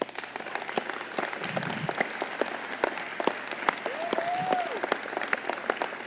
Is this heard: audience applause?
yes